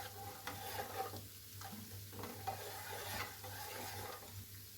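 Spoon stirring sugar into milk in a pan, faint repeated scraping and swishing strokes at an uneven rhythm over a low steady background hum.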